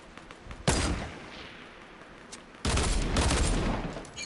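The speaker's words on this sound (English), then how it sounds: "Shoot down the bottom, boys!" Bursts of rapid gunfire ring out in a Fortnite squad match, one short volley followed by a longer sustained fusillade, loud and close.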